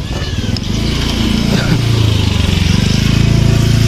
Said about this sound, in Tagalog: ito na yung motor na nabili natin sa junk shop